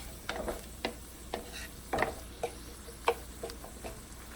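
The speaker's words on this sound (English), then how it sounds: "we're going to toss in our chopped onions. And we are going to let those cook for about 4 minutes" Chopped onions cooking in a pan, with quiet sizzling and a series of light clicks and taps of a utensil stirring at irregular intervals, close by and fairly faint.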